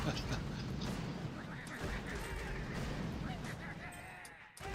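Dense, continuous gunfire and explosive booms from an attack in the Boom Beach mobile strategy game fill the whole stretch, loud and layered, with a voice talking over it.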